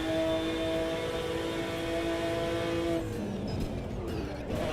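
A McLaren GT1 race car engine in Automobilista 2 drones loudly and steadily with a strong harmonic whine for about three seconds, then drops into a rougher, lower rumble as it shifts or lifts off.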